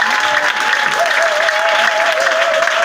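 A congregation applauds and cheers at a worship gathering, a loud, steady wash of many hands clapping together with a sustained crowd roar and a held tone running through it.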